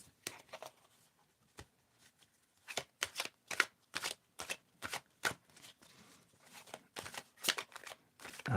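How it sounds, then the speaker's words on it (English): Tarot and oracle cards being shuffled and drawn, a quick series of crisp riffling snaps and slaps in irregular bursts, close and fairly quiet with no voices. "Let's just go draw some other cards here."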